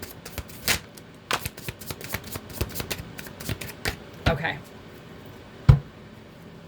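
Tarot cards riffled and shuffled in quick bursts of crisp clicks and flutters, close by, with a few sharper taps and pauses between shuffles.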